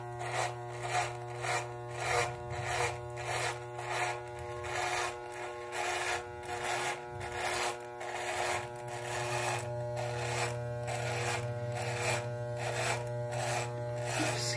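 An electric shaver cutting off a big beard, a close buzzing hum broken by regular rasping strokes that repeat in a steady rhythm, with no talk.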